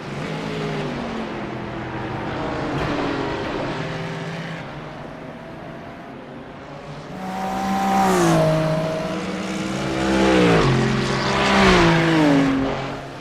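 Race cars lapping a circuit during a BMW endurance race, engines rising and falling in pitch as they accelerate and pass, with several loud passes building toward the end.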